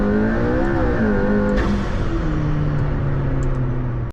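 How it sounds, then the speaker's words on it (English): McLaren P1 hypercar with a 903-horsepower engine under hard acceleration, a loud rising engine note with a gear change and an airy whine from the roof scoop, heard from inside the cabin. "you can hear that roof scoop right here. The air and the engine noise."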